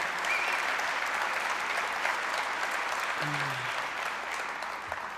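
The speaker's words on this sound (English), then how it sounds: "let's give her a warm round of applause as well" An audience at an agricultural society meeting gives Senator Rachel May a warm round of applause: steady, dense clapping fills the room throughout, with a brief murmur of voices beneath it.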